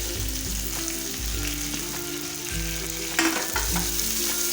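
Onion and garlic sautéing in a pan for a sandge curry, with a steady, close sizzle and occasional stirring scrapes throughout, no voices.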